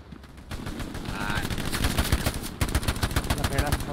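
Rapid gunfire from the World War II shooter Hell Let Loose, with dense, rhythmic automatic bursts that grow louder and keep rattling without pause, plus a sharper volley near the end.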